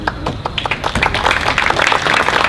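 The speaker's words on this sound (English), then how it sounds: "Okay, don't applaud her yet." Audience clapping at a Boys and Girls Club 50th anniversary gathering, a dense, steady patter of many hands filling the room for a few seconds.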